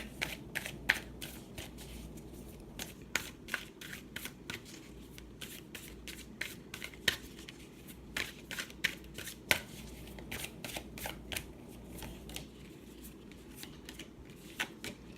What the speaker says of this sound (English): let's go ahead and pull a couple of cards from the Universe Has Your Back deck